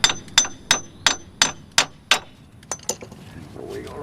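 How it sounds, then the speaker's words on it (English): CV axle being pulled out of a car, a series of about eight sharp metallic clanks and knocks in uneven rhythm, close and fairly loud, fading into quieter rustling at the end. "now we're going to finish pulling the CV axle through"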